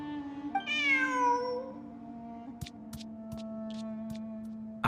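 A cat in the video game Genshin Impact gives a single clear, drawn-out meow, followed by a few faint soft ticks over a steady game background tone.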